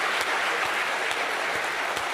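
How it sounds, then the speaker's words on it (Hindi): Applause from a comedy poetry show audience, a steady wash of clapping filling the short moment with no voices on top. "लेकिन आपकी तालियों में जोर होना चाहिए"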